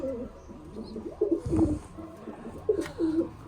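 Pigeons coo softly in a loft, several short rolling coos repeating in a loose rhythm at close range, with a brief muffled thump or rustle in the middle and no talking.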